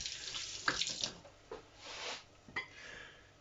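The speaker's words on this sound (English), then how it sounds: "Let me wash my hands." A kitchen tap runs while hands are washed after handling oily pork curry ingredients, giving a soft hissing water stream broken by splashes and a few clinks at the sink, fairly quiet and without voices.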